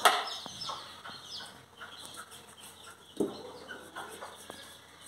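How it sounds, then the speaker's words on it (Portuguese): Free-range chickens are fed by an old woman outdoors, with soft, scattered clucks and chirps, a sharp thud near the start, and a brief louder knock partway through over quiet farmyard ambience. "A véia tá tratando franguinho."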